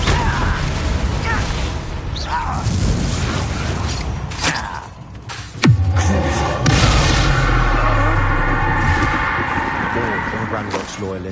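A Confringo blasting curse explodes in the video game Hogwarts Legacy, with a sharp loud boom midway followed by rumbling, crashing debris, amid dense game effects.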